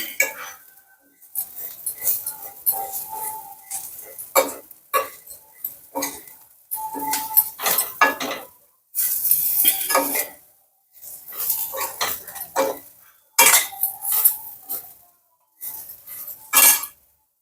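Dry semiya vermicelli roasting on a low flame, a utensil scraping and clinking against the pan in irregular bursts of stirring, with short pauses between strokes.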